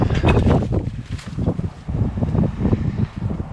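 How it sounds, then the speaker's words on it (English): Gusty wind ahead of a cold front buffets the microphone in uneven bursts at a ranch, a rough low rumble that swells and fades with no voices. "Starting to get windy and cold."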